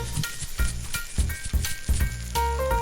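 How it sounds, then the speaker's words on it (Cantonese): Thick-cut A5 Akune wagyu beef steak sizzling in oiled, heated wok over low heat, close crackling and spitting in short bursts with a few louder pops, no talk. "將啲牛扒放喺鑊裏邊慢慢去煎"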